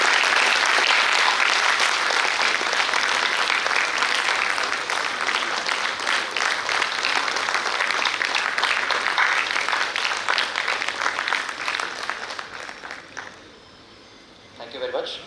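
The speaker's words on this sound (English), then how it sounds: "I request our audience to please give them a big applause for their work." An audience at a steel industry conference inauguration in Bhilai claps loudly and continuously, a dense even applause that thins out near the end into a brief lull before a final burst.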